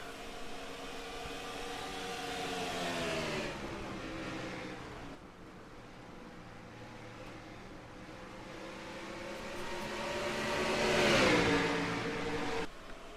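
Modified race cars in the iRacing video game lapping New Hampshire in a close pack, engines droning and rising in pitch as they accelerate, swelling loudest near the end with no talk.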